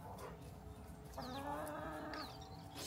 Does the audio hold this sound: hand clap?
no